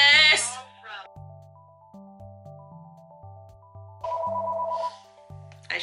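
A phone ringtone playing a simple electronic melody of stepped synthetic notes that repeats for several seconds, with a voice briefly at the start and a buzzing vibration layered in near the end.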